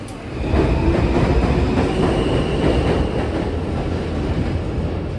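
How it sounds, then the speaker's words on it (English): An elevated New York subway Z train on the Queens Boulevard line rumbles steadily with a broad, loud roar and faint rhythmic clatter of wheels on track, continuing without pause. "This is a Queens Blvd Z Train."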